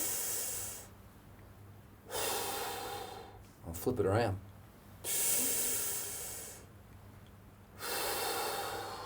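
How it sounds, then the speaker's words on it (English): A singer takes long, deep breaths in as a breathing exercise, several loud airy inhales and exhales close to the microphone with pauses between them, and one brief spoken phrase in the middle. "So as I'm breathing air in,"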